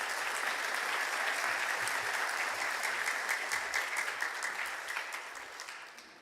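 A church congregation at an Easter Sunday service applauds to welcome the pastor, steady dense clapping that slowly fades and thins out toward the end.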